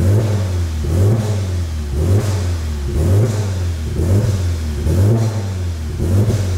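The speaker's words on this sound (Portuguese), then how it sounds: "O carro tá funcionando normal, tá ligado?" A VW Golf GTI MK7 with a Stage 4 tune, partly disassembled, runs close by and is revved in steady, regular blips about once per second, rising and falling over a constant idle rumble.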